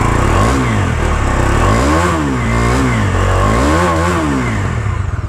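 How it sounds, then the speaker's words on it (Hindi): A Bajaj Dominar 250 motorcycle with a dual-barrel exhaust revs hard from idle, loud and close. The engine note repeatedly swells and drops back in rhythmic bursts before settling into a throbbing idle. "सो पहले मैं इस GoPro मोड पर आप लोगों को एग्जॉस्ट नॉट चेकआउट करवा देता हूँ।"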